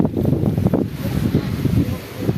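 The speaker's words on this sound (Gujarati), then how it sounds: "બહુ પવન છે" Strong wind buffeting the microphone with a steady low rumble and gusty surges, loud and close, no speech.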